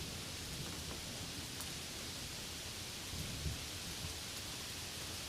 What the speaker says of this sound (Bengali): মেঘের গর্জন, প্রচুর পরিমাণে বৃষ্টি শুরু হলো।